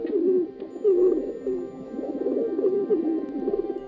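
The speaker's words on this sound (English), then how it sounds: "it becomes immediately apparent that there is an unusual amount of pigeons everywhere." Pigeons coo steadily in a main square in Poland, a low, throaty rolling murmur that repeats in overlapping bursts from several birds close by, with no talk over it.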